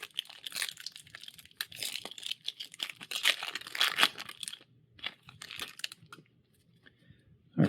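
A Wilds of Eldraine trading card booster pack torn open by hand, with close crinkling and ripping of foil wrapper in several bursts, then quieter handling near the end.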